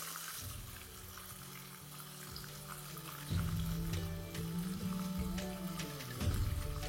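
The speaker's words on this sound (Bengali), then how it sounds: "আর এপাশে মাছগুলো এখন বেশ ক্রিস্পি করে ভাজা হয়ে গেছে।" Fish frying crisp in a kadai pan gives a faint, steady sizzle and crackle, swelling slightly louder toward the end.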